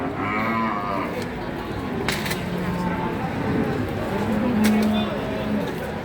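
Young long-horned cow at the Jatirogo cattle market mooing, a drawn-out low call near the start and later calls amid market noise, with people talking around it.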